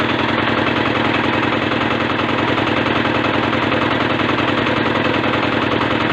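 Engine driving a homemade generator built from an induction motor runs steadily at adjusted revs, a loud, continuous mechanical drone with a fast regular throb, close by and with no talking.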